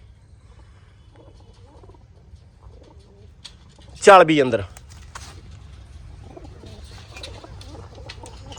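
A pigeon gives one short, throaty coo close by, breaking a quiet background, with a person speaking briefly.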